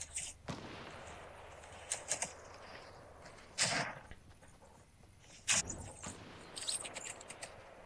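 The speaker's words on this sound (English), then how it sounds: "Was that you shooting?" Gunfire in the Fortnite Chapter 2 video game, with a few sharp separate shots spaced seconds apart and scattered fainter pops over a quiet in-game ambience.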